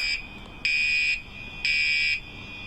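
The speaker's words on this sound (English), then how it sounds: "Residents said the alarm started going off around 10 o'clock Friday night and didn't stop until the management company came the following morning around 11." Apartment building fire alarm sounding in two long, loud, shrill electronic blasts separated by a short pause, with a quieter tone holding between them and no voices.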